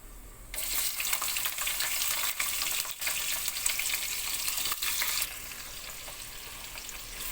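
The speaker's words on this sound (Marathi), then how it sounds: "आता हा कांदा तेलामध्ये चांगला फ्राय करून घ्यायचा." Sliced onion hits hot oil for biryani, bursting into a bright, steady sizzle that runs loud and close before easing to a softer fry near the end, with faint stirring scrapes; no voices.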